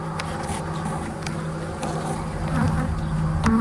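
Dense, continuous buzzing of many honeybees from a hive, close and steady, slightly swelling toward the end.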